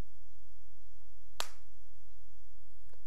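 A single sharp hand clap into a microphone for a sensor experiment, one crisp isolated burst in an otherwise quiet room with low hum.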